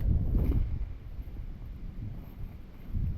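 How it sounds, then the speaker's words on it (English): Wind blowing outdoors, a steady low rumbling buffet against the microphone with gusty swells and no other clear sounds. "Whoa, the wind is taking it far."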